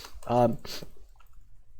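A computer mouse clicks a few times, sharp and close, during an attempt to open an iron door in Minecraft; someone speaks briefly over the first clicks, and quieter clicks follow.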